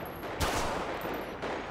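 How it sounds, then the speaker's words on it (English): Two sharp gunshots ring out in GTA 5 as a player fires at a car's tires, spaced about a second apart with a short decaying tail after each, over a faint steady background hum and no talking. "I'm gonna shoot this guy's tires out."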